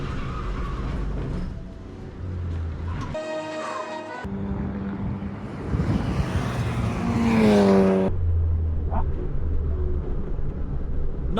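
A Citroen C1 cup race car laps a circuit, its small engine droning, dipping and revving through gear changes, with a loud climbing rise at one point and passing road noise throughout.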